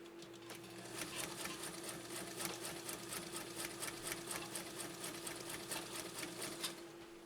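A Japanese Viscount Model 929 sewing machine runs a straight stitch through thick leather, a fast, even stream of mechanical needle clatter heard close and steady for several seconds over a low motor hum, with no voices.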